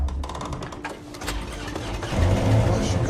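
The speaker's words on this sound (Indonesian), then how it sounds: "sehingga mesin bisa menyala kembali" An old lifeboat engine cranks and catches again. Its rumble is faint and ragged at first, then builds into a louder, steadier running drone in the second half amid background noise.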